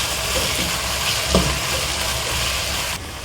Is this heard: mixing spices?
yes